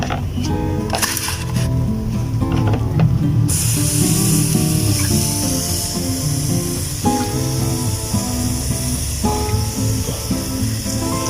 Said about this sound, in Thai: ฉีดน้ำ